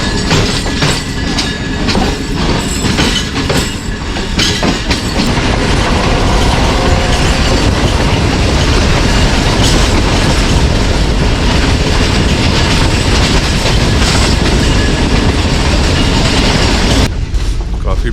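A G20 locomotive hauls a passenger train as it accelerates, a loud, continuous rumble with rhythmic clickety-clack of wheels over rail joints and occasional heavier thuds, close by and sustained throughout.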